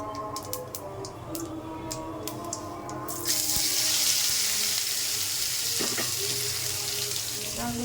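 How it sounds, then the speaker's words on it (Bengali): Cumin seeds go into hot oil in a wok for tempering: a few quiet clicks first, then a sudden, steady sizzling hiss erupts and carries on to the end. "তেলের মধ্যে জিরা ফোড়ন দিয়ে দিলাম।"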